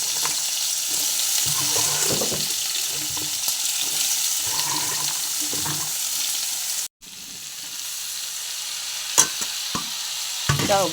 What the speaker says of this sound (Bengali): সব সবজি ভেজে বাঁধাকপিটা দিয়ে দিলাম